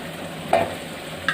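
Star anise and mace stirred in an oiled pan for vegetable pulao: a soft frying hiss with two short scraping strokes of the spoon, close and alone.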